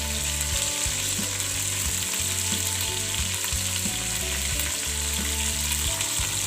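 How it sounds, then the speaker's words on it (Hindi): Chicken fries in a pan with ginger and garlic, giving a loud, steady, continuous sizzle and crackle. It runs unbroken throughout over a faint low hum. "अब इसको अदरक लहसुन के साथ थोड़ा सा फ्राई करेंगे"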